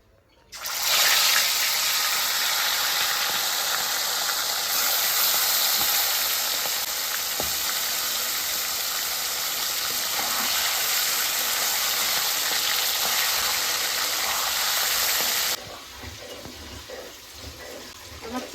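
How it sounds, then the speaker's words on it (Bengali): Chicken pieces fry in plenty of hot oil, giving a loud, continuous hiss and sizzle for about fifteen seconds before it drops off abruptly to quieter kitchen sounds. "বেশি করে তেল দিয়ে দিলাম তেল গরম হয়ে গেছে এবার চিকেনটা আমি তেলে ভেজে নেবো"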